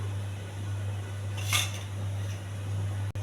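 A frying pan is set down on a stove while making gulab jamun, giving one short metallic clank over a steady background hum.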